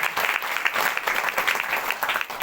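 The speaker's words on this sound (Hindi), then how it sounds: "परमेश्वर जोरदार ताली से धन्यवाद करें" A congregation at a Sunday prayer meeting claps loudly and fast, a dense, continuous patter of many hands close by for a couple of seconds with no voices over it.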